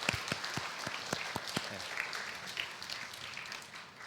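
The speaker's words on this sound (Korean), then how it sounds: "우리 환영한다고 박수 한번 보내겠습니다." A church congregation at a Sunday service breaks into applause: a scattered burst of claps from a crowded room, loosely rhythmic at first and then thinning into a softer patter, fairly faint and distant.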